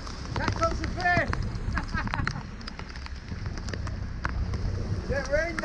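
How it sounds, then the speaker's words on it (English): Rain falls on a small fishing boat, a steady light hiss of drops under a voice, with scattered taps on the deck. "Here's the rain."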